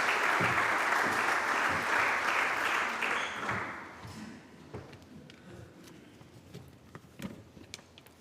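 Audience applause in a large auditorium at an awards ceremony in Lisbon's Centro Cultural de Belém; a dense, steady round of clapping for about four seconds that fades to a few scattered claps and light footsteps.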